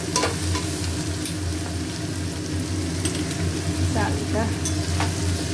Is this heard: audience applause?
no